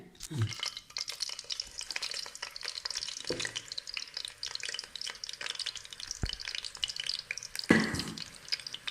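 Chicken stir-frying in a little oil in a kadai over high heat, a crackling sizzle under repeated scraping and stirring strokes from a spatula, close up, with a few louder clanks against the pan.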